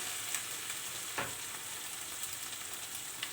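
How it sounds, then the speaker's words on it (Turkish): A sauce seasoned with black pepper and red pepper flakes being stirred in a pan, soft sizzling with a few faint scrapes and clinks, quiet and close, no voices. "Sosumuzu bir karıştırıyoruz."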